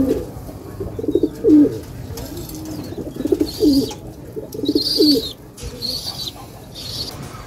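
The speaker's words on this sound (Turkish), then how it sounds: "toplamda kaç tane güvercinin var?" Pigeons in a loft of nearly sixty tumbler birds give soft, repeated rolling coos up close, a steady rhythm of low calls with faint chirps and people talking in the background.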